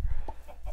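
Minecraft chicken giving a few quick, close clucks in short succession, brief and clear against a low background hum.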